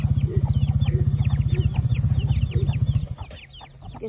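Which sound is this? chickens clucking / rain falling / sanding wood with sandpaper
chickens clucking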